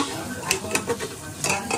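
Meat curry is stirred in a pressure cooker pot, with close scraping spoon strokes against the metal over a soft sizzle of frying.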